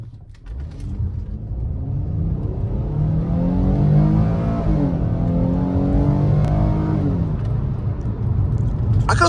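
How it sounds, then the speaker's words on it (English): A 2019 Ford Flex SEL engine revs up steadily from a standstill, pitch climbing through gears with a brief shift dip, loud and close, no talking. "Now let's go ahead and give it some acceleration at a dead stop."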